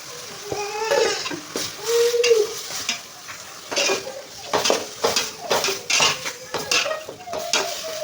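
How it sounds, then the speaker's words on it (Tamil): Grated coconut stirred and fried in a pan for Kanyakumari-style avial, with a steady sizzle under repeated scraping and clinks of a spoon against the metal, close and fairly loud, no talking. "நமக்கு தேங்காய் துருவலை போட்டு நல்லா வதக்கிப்போம்."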